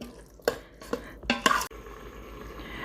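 A spoon stirring paneer bhurji in an Instant Pot on saute mode, giving a few quick scraping and clinking strokes against the pot, then a soft steady sizzle.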